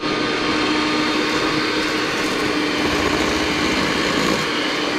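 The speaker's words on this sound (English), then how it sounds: "Right now, I'm going to use a hand mixer." A hand mixer creams butter and sugar for peanut butter oatmeal raisin cookies, whirring with a steady, close electric motor hum and no pauses.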